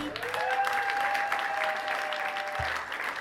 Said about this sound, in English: Clap to the beat.